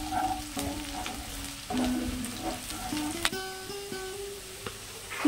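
Chopped onion frying in oil until reddish, for a spicy satin fish curry, gives a steady close sizzle with a few light clinks of a stirring utensil, and no voices.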